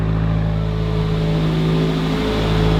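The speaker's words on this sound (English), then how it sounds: "Car sounds pretty good." A Subaru WRX with the FA20 engine runs close by with a steady, loud, droning hum that holds even throughout, with no voices.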